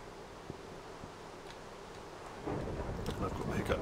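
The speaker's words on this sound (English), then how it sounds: "a full on fucking storm now" A Minecraft thunderstorm rolls in with a steady hiss of rain and low thunder rumbles, swelling louder and fuller partway through as the storm builds.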